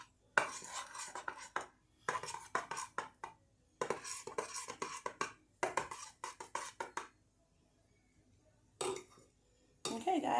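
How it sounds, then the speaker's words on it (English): A utensil scrapes and clinks against a bowl while thick cinnamon roll cake batter is stirred, in choppy bursts separated by short silences, close and fairly loud. "I'm not stirring it as well as I thought it would"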